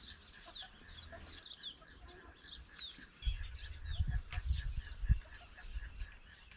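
Chickens and fowl in a simple homemade coop on a farm in Bolivia, with soft, fairly distant clucks and calls scattered across the clip and heavier low rustling or handling noise building up partway through.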